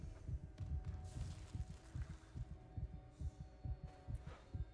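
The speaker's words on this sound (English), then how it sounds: "if you listen closely, you can hear Isaac's heartbeat" A slow, steady heartbeat from Isaac, the player character in the 2023 Dead Space remake, thumps low and close as a regular throbbing pulse over a faint hum, with no talk.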